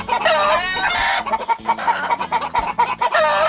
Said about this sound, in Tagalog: Kapulit tong mga manok na to.